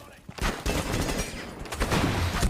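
Rainbow Six Siege gunfire comes in dense, loud bursts of rapid shots, nearly continuous with brief gaps between volleys.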